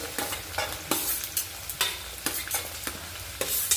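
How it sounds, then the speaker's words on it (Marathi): Carrots and other vegetables frying in oil in a pan, a constant crackling sizzle broken by repeated sharp stirring clatters and scrapes at an uneven rhythm, close and without voices. "तर आधी मी भाज्या फ्राय करून घेणार आहे"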